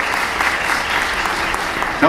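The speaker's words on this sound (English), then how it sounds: "a bit of a crap round of applause for the late, great Richard Harris" Audience applause for the late actor Richard Harris at a Comicpalooza 2015 fan convention panel, a steady, fairly thin round of clapping from a crowd that carries on evenly for about two seconds.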